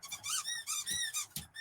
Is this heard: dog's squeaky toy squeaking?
yes